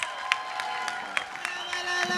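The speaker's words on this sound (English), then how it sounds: "please give a huge round of applause for Lou Diamond Phillips" Audience clapping and cheering for actor Lou Diamond Phillips at the Tampa Bay Comic Convention panel, a steady crowd wash with scattered sharper claps throughout.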